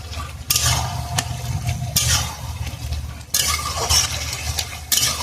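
Fish being stirred and mixed in a sizzling pan for a Bengali fish-belly dish, with repeated scraping strokes in bursts over a soft background sizzle and occasional light clinks.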